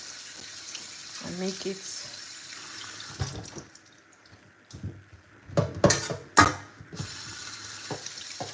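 Tap water runs into a sink while a fish is washed by hand, with splashing that swells in uneven bursts under quiet talking.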